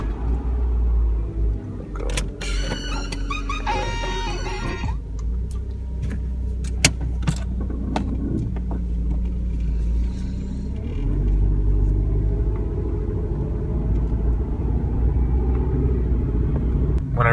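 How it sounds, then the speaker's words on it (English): A 1997 Ford Escort engine turns over and settles into a steady low rumble, with clicks and mechanical rattles near the start, recorded close by. "Now I'm going to start the car."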